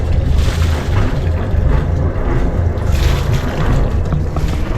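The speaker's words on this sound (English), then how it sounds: "Motor's working." A diesel motor on a Beneteau 423 sailboat runs with a steady low rumble and throb, heard close and fairly loud over wind and water wash, without pause.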